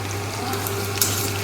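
Curry leaves are tempered in hot oil with onion and chillies ahead of adding potatoes, a steady soft sizzle running throughout with a couple of faint clinks of a utensil and no talking.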